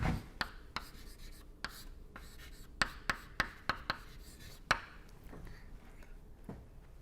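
Handwriting during a lecture on fluid mechanics, with soft scratching strokes and a series of sharp taps as the writing tool strikes the surface, fairly close with no talking.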